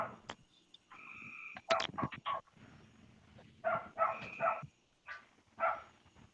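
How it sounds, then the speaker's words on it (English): A dog barks in short, faint bursts at a distance, several times in quick, uneven succession. "I heard a dog."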